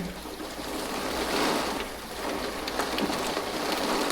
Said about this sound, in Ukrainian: Тільки шум дощу